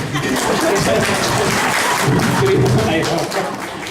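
Audience applause fills a hall during a provincial governor's State of the Province Address in 2011: dense, steady clapping that runs loud and unbroken throughout, with a hint of chuckling mixed in, before easing slightly at the very end.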